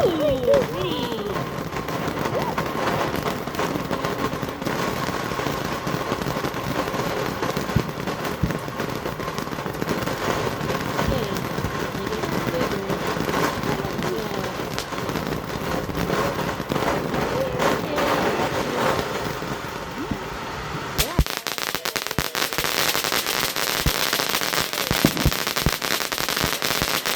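Starlight fireworks explode outdoors in a dense, prolonged barrage of crackling pops and bangs, sustained and fairly close, with people talking and reacting throughout.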